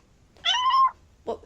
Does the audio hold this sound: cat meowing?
yes